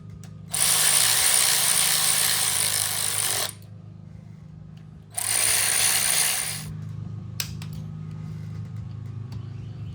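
A ratchet tightens the cam cover bolts on a 100th Anniversary Harley-Davidson, two loud bursts of rapid clicking of about three and one and a half seconds, close up, with a few lone clicks afterward.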